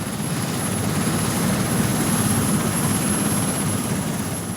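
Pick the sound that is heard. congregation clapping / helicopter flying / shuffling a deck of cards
helicopter flying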